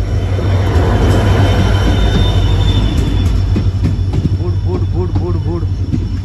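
A train passes a railway station on the Konkan to Mumbai line. A loud, steady low rumble runs throughout, with wheel squeal and rhythmic clatter building toward the end, and voices nearby over the noise.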